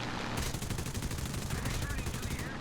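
Sustained rapid machine gun fire from a P-400 fighter aircraft in the War Thunder combat flight game, a dense continuous rattle of rounds, loud and up close over engine roar.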